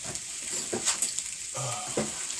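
French toast and sausage sizzle steadily in a pan, a constant close hiss broken by a few soft clicks and a brief lower bubbling near the end, with no talking.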